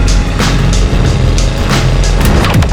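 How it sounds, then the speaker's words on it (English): A 1966 Chevrolet Impala with a 396 big-block V8 cruises down the road, giving a loud, close, steady engine rumble with road and tire noise. "You have to respect the way that these big body Impalas cruise down the road"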